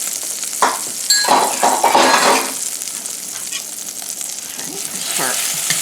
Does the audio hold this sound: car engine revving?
no